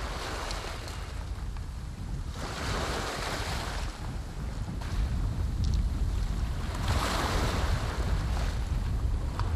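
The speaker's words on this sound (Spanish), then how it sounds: "la espuma blanquecina que forman las olas al topar con la barrera de arrecife" Ocean waves break on a coral reef barrier off a tropical island coast, a continuous roaring surf that swells and recedes in broad surges, mixed with wind noise and no talk.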